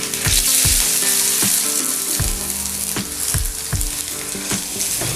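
Mustard seeds, cumin, curry leaves and chopped garlic sizzle loudly in hot oil, a steady bright crackle broken by repeated sharp pops and spatters, with a few stirring knocks.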